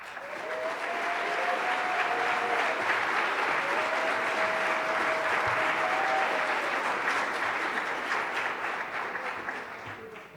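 A conference audience at a drug policy event gives sustained applause, building quickly then holding a dense, even wash of clapping for several seconds before tapering, with some faint vocal tones mixed in.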